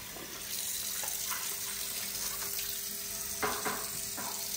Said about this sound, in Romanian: Îmi speli vasele?